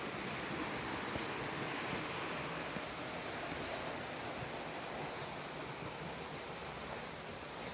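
Steady broadband rush of flowing river water, continuous and fairly loud throughout, with no voices.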